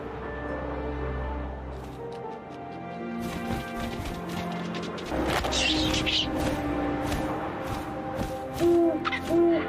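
An owl hoots in the video game What Remains of Edith Finch, tonal calls under wind, rustling and scattered thuds and cracks, with a narrating voice running through the scene.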